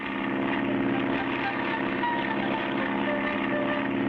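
A cartoon propeller plane engine drones steadily and loudly throughout, with a constant buzzing hum under voices talking.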